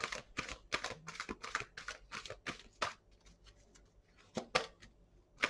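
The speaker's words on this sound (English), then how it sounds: "They're very large cards, so they're hard to get any shuffle out of them." Crisp rapid riffling bursts, several in quick succession, then a pause and a couple more, close and fairly quiet as large cards are shuffled.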